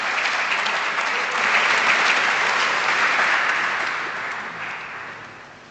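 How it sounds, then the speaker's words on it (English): Steady applause from a large audience filling the space of a historic Anglican cathedral at an interfaith evening, loud and sustained before gradually fading. "You can give yourselves a round of applause."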